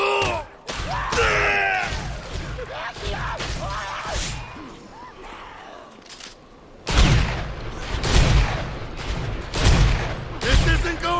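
Automatic shotgun fire in Dead Rising 4 booms out in rapid repeated blasts, loud and close, over frantic game voices and yelling, with a quieter stretch in the middle before another heavy burst.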